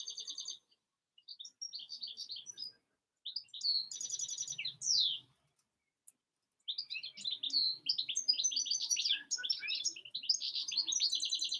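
Several songbirds chirp and sing in bursts of bright tweets and trills, with short quiet gaps between phrases and a denser chorus toward the end, fairly close and with no talk.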